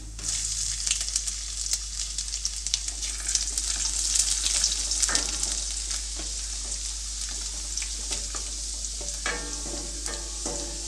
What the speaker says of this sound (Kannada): ಬೆಳ್ಳುಳ್ಳಿ ಹಾಕ್ತಾಯಿದ್ದೀನಿ